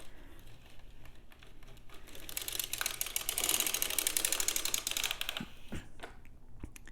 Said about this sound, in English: Now we wrap the needle on this side and crank back again.